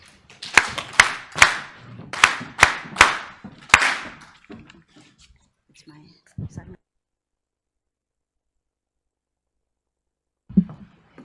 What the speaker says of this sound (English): let's give her the Batupili clap